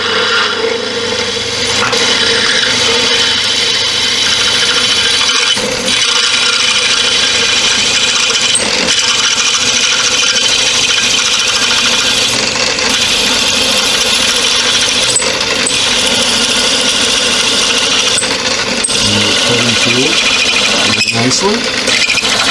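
A 1940s Shopsmith 10E motor drones steadily while a drill bit bores through a metal bushing, with a rising squeal and scraping toward the end.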